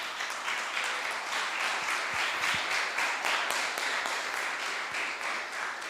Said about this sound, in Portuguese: Pai, em nome de Jesus, aplaude.